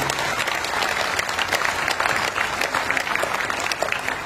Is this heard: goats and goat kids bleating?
no